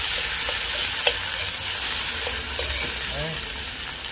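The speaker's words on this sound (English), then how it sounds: "we have some curry leaves frying a little bit of fresh garlic, and some onion" Curry leaves, fresh garlic and onion fry in a hot pot with a steady, close sizzle and crackle. Light stirring clicks cut through now and then, and no one speaks.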